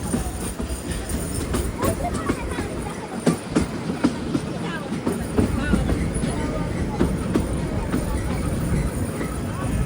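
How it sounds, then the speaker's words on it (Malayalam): A narrow gauge passenger train on the Bilimora to Waghai line in Gujarat runs steadily, with continuous rumbling and faint rhythmic wheel clatter, fairly loud throughout, and voices murmuring underneath. "ട്രെയിൻ ഇപ്പോൾ അടുത്ത സ്റ്റേഷനിലേക്ക് എത്തുകയാണ്"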